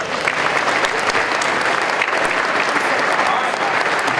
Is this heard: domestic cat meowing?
no